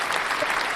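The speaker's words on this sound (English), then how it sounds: "I'm gonna give you guys applause because" Brief burst of recorded crowd applause played as a sound effect during a livestream, steady and moderately loud for under a second.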